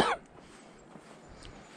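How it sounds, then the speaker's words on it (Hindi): A single short cough from a hiker on the trail to Jogini Waterfall near Manali, close and sharp at the very start, then quiet outdoor background. "थोड़ी थोड़ी खांसी आ जाती है।"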